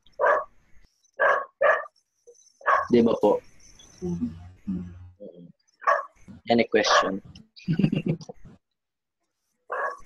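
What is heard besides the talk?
dog barking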